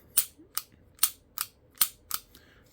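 Six sharp, snappy shots from a Taurus G3 pistol crack out in fairly even succession, each brief with a quick decay, close and crisp with no talking.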